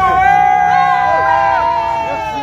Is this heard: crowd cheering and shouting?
yes